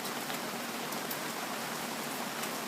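Steady rain falls outdoors, a dense, even hiss of drops hitting surfaces with occasional brighter patters, continuous and close with no voices.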